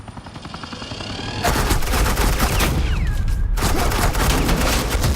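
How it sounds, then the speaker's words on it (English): Suppressing fire in Batman: The Enemy Within, a sudden, sustained barrage of automatic gunfire that is loud and continuous, breaking off briefly before resuming with the same dense rattle. "Suppressing fire."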